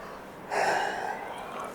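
A single breathy yawn, a drawn-out airy exhale lasting about a second, heard close up in an otherwise quiet room.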